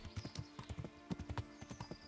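Horse hooves clip-clop in a brisk, steady rhythm while riding in Kingdom Come: Deliverance, close and prominent, with a faint tonal hum underneath.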